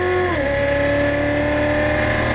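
Exotic race car engine screaming at high revs, then a quick upshift drops the pitch and it keeps pulling hard and loud, steady and close, with no talk.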